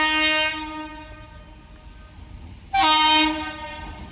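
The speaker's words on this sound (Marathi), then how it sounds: "मालगाडी चालली आहे." A freight train sounds two loud horn blasts separated by a pause, with a steady droning tone continuing between them as it passes.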